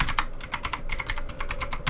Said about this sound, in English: let's just start by typing smartwatch